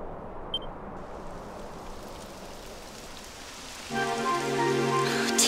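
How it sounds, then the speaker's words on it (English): Steady rain patters down in the video game Dragon Quest XI, a soft even hiss of falling drops that thickens near the end as a layered musical tone swells in over it. "It would have to go and start raining, wouldn't it?"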